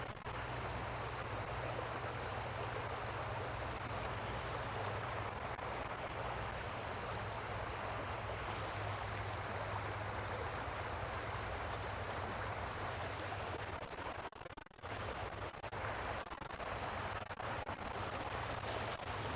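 Broad, steady rush of a Canadian river flowing close by, a continuous wash of water noise with a low hum underneath, briefly dipping near the middle.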